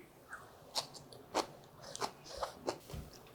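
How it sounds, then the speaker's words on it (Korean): Bean sprouts seasoned with salt and sesame oil, chewed up close with crisp, quiet crunches repeating irregularly, about seven or eight bites. "콩나물 먹어볼게요"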